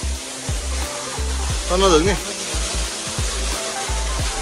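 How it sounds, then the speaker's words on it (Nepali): A waterfall at Kageswori temple gives a steady, close, broadband rush of falling water, with a brief voice heard in the middle. "यहाँ एकदम राम्रो झरना छ है"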